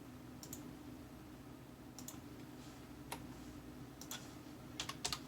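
Computer keyboard being typed on in short bursts of soft clicks over a low steady hum, faint and close, with quiet gaps between keystrokes.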